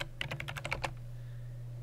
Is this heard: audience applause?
no